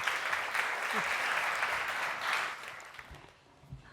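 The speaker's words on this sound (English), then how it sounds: "An applause, please." Audience applause at a design talk, a steady wash of clapping that fades out toward the end with a few scattered claps trailing off.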